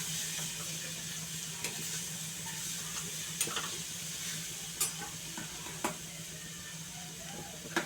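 Already-cooked vegetable sautéing in a pan for a Maharashtrian mohtyachi bhaji, a steady close sizzle with a few sharp clinks and scrapes from stirring, no voices.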